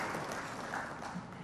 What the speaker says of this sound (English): Let's applaud him once more, ladies and gentlemen.